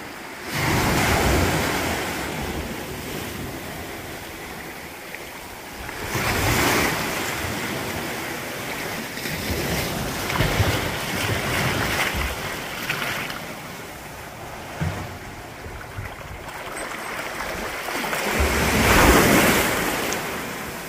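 Waves washing onto a tiny Algarve beach beside a sea cave, a continuous broad rush of surf that swells and eases with wind buffeting the microphone.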